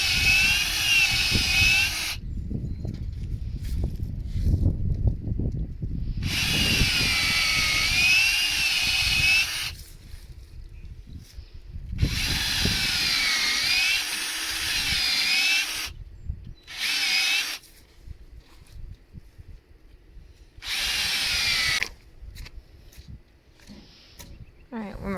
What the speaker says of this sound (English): So he's drilling down to what we pre-marked as our 1 1/4 inch